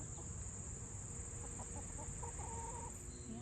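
Garden chickens that have been out all day cluck in short repeated calls, fairly faint against a steady background hum, with a few more drawn-out notes toward the end.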